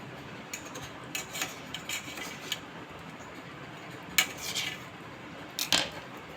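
Dried mango leather being peeled off a plate, heard as a few faint, scattered scraping and clinking touches against the plate with quiet gaps between them and no talk.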